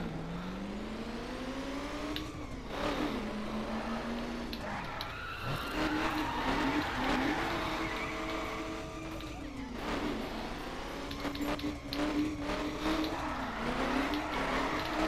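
A Cadillac Eldorado in the racing game The Crew drifting, its engine droning and rising and falling with revs while the tires squeal through long slides, loud and continuous, with someone talking over it.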